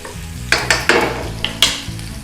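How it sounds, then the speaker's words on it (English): Garlic and chili stir-frying in hot oil for mussels, a steady sizzle under a low hum, punctuated by several quick scraping strokes of a utensil. "And then in with our garlic and chili. Now it's only be a little bit of a stir fry."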